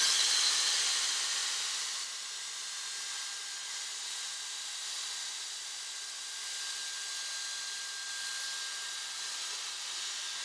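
Dyson Airstrait straightener set to 250 running on dry hair, a steady airy blowing hiss that holds at moderate level throughout, slightly louder at the start.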